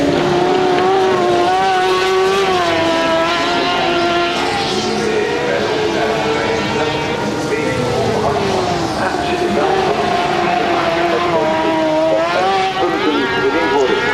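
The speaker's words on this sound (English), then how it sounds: "Listen to those engine screams" Sidecar racing machines at the Assen circuit, 1997 Sidecar World Cup, with high-revving engines screaming steadily at the top end throughout, loud and continuous with pitch rising and falling as they pass; a commentator talks over the racket.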